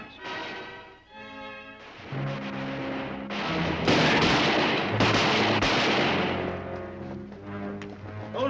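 Gunfire in a western TV episode: several loud shots and blasts ring out over a swelling orchestral score, with the music carrying on between and after them.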